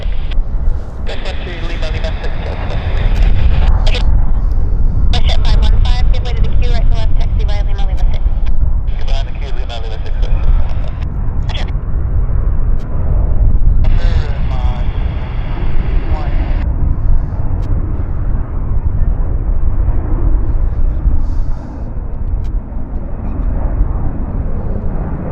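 A CRJ regional jet accelerates down the runway on its takeoff roll at Vancouver airport, a loud, sustained engine roar close by that swells and holds for the whole stretch, with voices talking over it.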